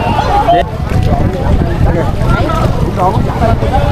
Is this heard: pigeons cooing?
no